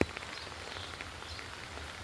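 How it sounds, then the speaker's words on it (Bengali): Rain falling steadily in a Bangladeshi neighbourhood after hours of downpour since morning, a soft even patter and hiss at low level throughout, with no voices. "বৃষ্টি হচ্ছে আমাদের এলাকায়, সকাল থেকে শুরু হয়েছে বৃষ্টি, আর এখন ছাড়তেছে না।"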